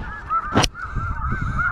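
Snow geese honking as they fly in during a spring hunt in Alberta, a steady chorus of nasal calls over the whole stretch with one loud broadband burst partway through, close and clear.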